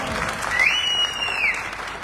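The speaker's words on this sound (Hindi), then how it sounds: "जबरदस्त तालियां।" An audience at a network marketing seminar bursts into loud, sustained applause. A brief high whistle-like tone rises and falls in the middle of the clapping.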